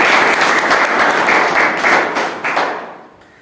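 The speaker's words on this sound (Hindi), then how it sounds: "तो सर का जोरदार तालियों से स्वागत करें।" Loud, dense applause from an audience welcoming a speaker at a motivational talk by the director of a coaching institute, steady for about two and a half seconds before tapering off.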